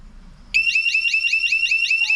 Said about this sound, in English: that motion detector on my left is going to trigger an alarm